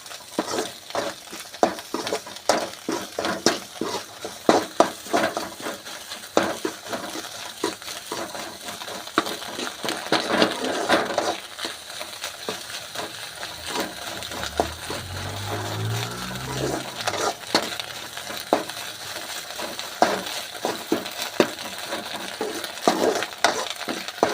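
Egg podimas being stirred in a pan makes rapid, repeated scraping and clinking strokes over a continuous sizzle, with a brief low rumble midway.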